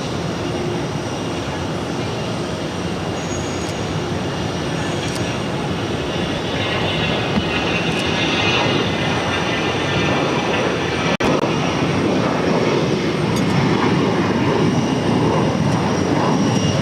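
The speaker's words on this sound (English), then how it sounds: "we're going to be seeing the A340 600 with Lufthansa, going to be arriving on 22 left" A Lufthansa Airbus A340-600 arrives on runway 22 Left at Boston Logan, its engine roar steady and sustained for the whole stretch with broad jet rumble and whine.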